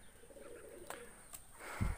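Pet pigeons in a home breeding loft coo softly in a short low burst near the end, with a few faint chirps and background hum beforehand.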